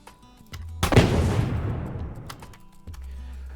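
A layered game explosion effect built to feel big yet close by: a sharp, loud blast hits after a low rumble, then a long roaring tail decays over a couple of seconds before a deep low hum returns.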